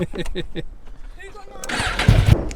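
A motorcycle pulls away hard from a standing start, its engine note surging loudly up through the revs after someone speaks briefly.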